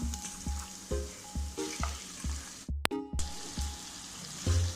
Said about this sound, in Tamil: இப்போ நம்ம ஊற வச்ச சிக்கன் ஆட் பண்ணிடலாம்.